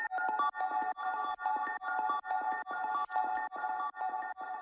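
Bright, bleepy synth pattern from a hypnotic groove techno track, run through a groove delay preset: repeating tonal stabs in a steady rhythm with echoing tails that fill the gaps, clean and continuous with no voices.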